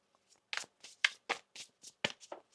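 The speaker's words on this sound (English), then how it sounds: "One more shuffle here." Tarot cards being shuffled by hand in a quiet room, a series of about nine soft, papery riffle bursts in an uneven rhythm.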